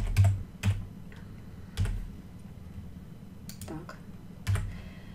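Sparse keystrokes on a computer keyboard, a handful of separate taps spread over several seconds, heard close over a low steady background.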